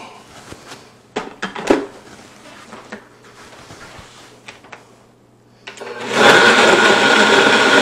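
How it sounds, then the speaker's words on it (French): A few clunks and clicks of a lid and jar, then a blender roars loudly into a steady whirring purée of salsa roja ingredients for the last couple of seconds. "Et on va réduire tout ça en une purée."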